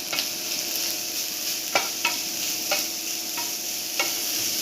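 Sugar is stirred into a sweet filling in a pan, with a soft continuous sizzle broken by several distinct scraping taps of the spoon against the pan, spaced about a second apart.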